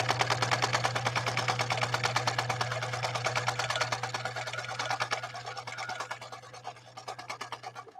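A 1966 Husqvarna Viking 19E sewing machine runs at a fast, even stitching rhythm, close and steady, with a constant motor hum under the rapid needle clatter that slows slightly near the end.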